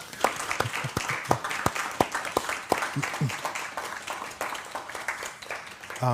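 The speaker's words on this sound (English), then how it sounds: "if you can give Brandon, please, a round of applause" An audience applauds author and violinist Brendan Slocumb at a book talk, a modest crowd whose separate, sharp claps ring out fairly close and thin out toward the end.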